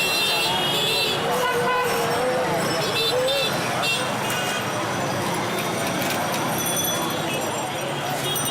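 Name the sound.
car horns honking in Dhaka street traffic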